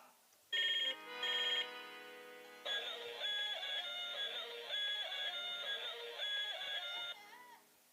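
A phone ringtone from an iPhone plays a bright, repeating electronic melody: two short bursts, then a longer stretch of ringing, fairly close and clear.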